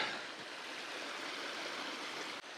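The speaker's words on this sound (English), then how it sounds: "I could hear the faint sound of this waterfall" Steady rushing water pours without pause, a dense broadband roar from a waterfall in the Texas Hill Country that stays even throughout.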